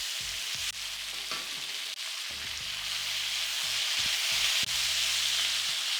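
Chicken pieces coated in starch, salt and black pepper sauté in a hot pan for sweet and sour chicken, a loud steady sizzle broken by repeated scraping stirs and low clunks of the utensil against the pan.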